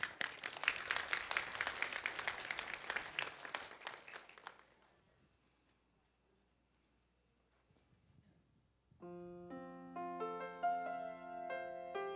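Applause from a church congregation at a New Year's Day service, welcoming two sisters up to sing; dense clapping for about four seconds, fading to near silence before a sung hymn with accompaniment begins.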